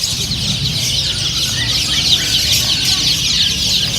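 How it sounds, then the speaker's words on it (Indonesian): Chickens cluck and chatter steadily at a busy bird market, a dense, continuous flock sound close by with no speech over it. "Ayamnya warna-warni, kasihan ya."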